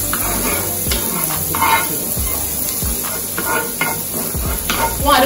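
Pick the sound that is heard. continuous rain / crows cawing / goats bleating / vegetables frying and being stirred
vegetables frying and being stirred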